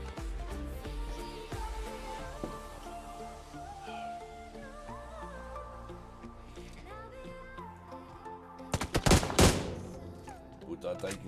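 Gunfire in a battle royale video game: a dense burst of loud shots near the end, over a busy background of in-game music and effects.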